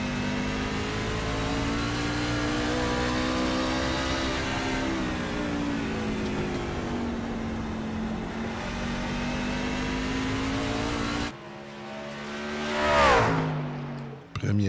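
A race car on a flying lap at Nashville in an amateur racing series, its engine droning loud and steady for a long stretch, then dropping off before a sharp rising surge as it passes close.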